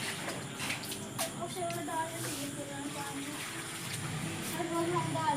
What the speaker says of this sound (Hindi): हम डेली इसी टाइम पे डालते हैं गमलों में पानी